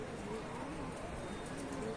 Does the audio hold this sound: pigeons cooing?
yes